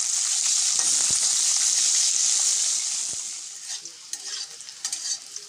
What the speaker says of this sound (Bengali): ওই তেলে পুরো উচ্ছে দিয়ে দিলাম, নাড়াচাড়া করে লাল লাল করে ভেজে নেব।